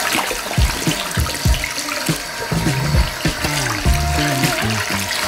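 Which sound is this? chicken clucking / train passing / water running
water running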